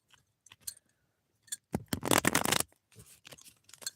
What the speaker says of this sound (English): the flipping of the cards, the shuffling of the cards